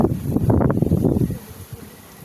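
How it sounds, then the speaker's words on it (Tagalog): Gusty storm wind rushes through plants in Dingalan, Aurora, a broad rustling roar that swells for over a second and then drops away, leaving faint rustles. "Ano kung maririnig nyo yung pagaspas ng hangin. Ang lakas."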